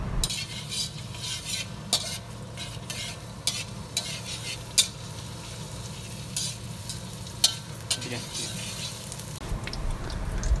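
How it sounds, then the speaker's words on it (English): Garlic pieces sizzling in a preheated pan while a utensil stirs them, with a continuous frying hiss and repeated scraping clicks at close range and no talking. "we need to put the garlic pieces into the preheated pan and stir until it's smooth"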